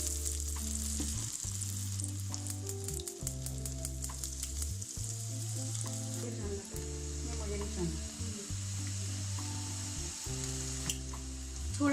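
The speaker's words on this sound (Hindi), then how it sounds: "अब हम इन्हें फ्राई करेंगे।" Breaded chicken bread rolls sizzle and crackle in hot oil in a pan, a steady bright frying hiss running throughout under prominent background music.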